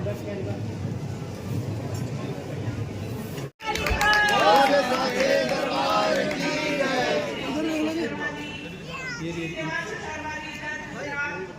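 A dense crowd chattering at Maa Bhadrakali temple in Kurukshetra, many overlapping voices close by and loud, with a brief dropout before the babble surges back and continues.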